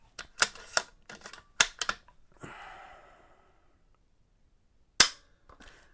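Remington 700 rifle trigger test-fired after installation, a cluster of sharp dry mechanical clicks and snaps close by, followed by a soft rustle and one more crisp click after a pause.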